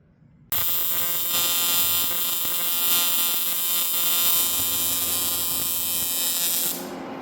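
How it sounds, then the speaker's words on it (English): A TIG welder hums while welding aluminum brake brackets: after a brief quiet start, a loud, steady electric buzz with a harsh, tonal edge holds for about six seconds, then drops off abruptly. "So I'll try to set up the camera so y'all can watch me TIG the aluminum."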